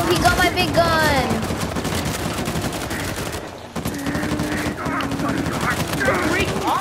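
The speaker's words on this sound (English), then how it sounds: "No, don't you dare shoot at me." Gunfire in the action-adventure game Uncharted 4: A Thief's End, with rapid shots and bursts mixed into dense game noise and voices, a brief dip in the middle before the firing resumes.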